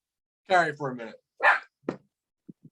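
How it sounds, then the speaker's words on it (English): A few faint, distant dog barks arrive in short separate bursts right after someone speaks in a quiet indoor room. "My dog's barking"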